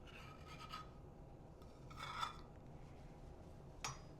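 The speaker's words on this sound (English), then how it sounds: "I'm just gonna scrape it out with this spoon though" A spoon scrapes out the inside of a measuring cup while making a gingerbread Bundt cake, three brief, faint rasping strokes separated by quiet pauses.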